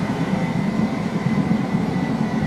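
Steady rumble of a train running along the track, a continuous close low roar with a faint high whine and no clear breaks or speech.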